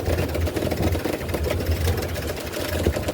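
A sailboat's inboard engine runs steadily at idle on a solo Atlantic crossing, a close, even mid-pitched chugging drone that continues throughout without talking.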